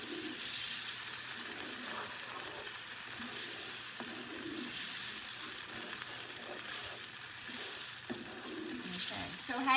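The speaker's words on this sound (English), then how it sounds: "let it keep simmering. You can just keep stirring to make sure all the flavors are melding together" Shakshuka simmers with a steady, continuous sizzle and bubbling in a pan as it is stirred, with occasional soft scrapes and clicks of the utensil running through the whole stretch.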